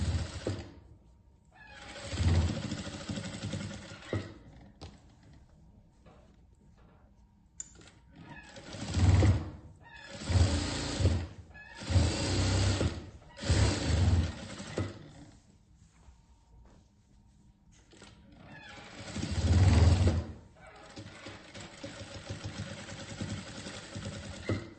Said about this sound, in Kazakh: Міне енді бұның шетін бастырып тігіп шығамын.